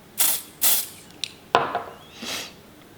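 Several short hissing bursts from a Dior Airflash makeup spray can, close and crisp, with a small click between them and a softer final puff.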